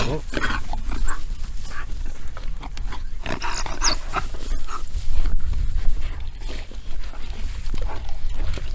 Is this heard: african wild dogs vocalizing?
yes